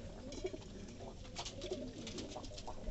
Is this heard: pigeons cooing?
yes